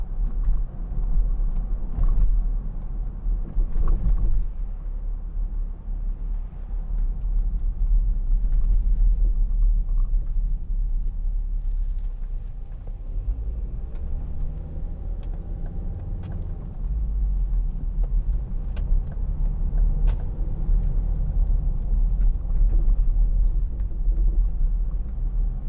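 Interior road noise from a 2005 Volvo XC90 2.4 D SE diesel on the move: a steady, loud low rumble of engine and tyres that swells and eases slightly over time, with no talking.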